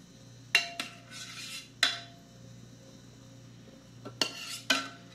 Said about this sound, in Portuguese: E vamos virar a panela aqui, né? Raspar a panela pra ficar bem, bem gostosinho aqui